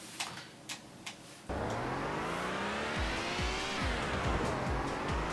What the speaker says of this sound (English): The engine sounds kind of all of the cars sound pretty much the same.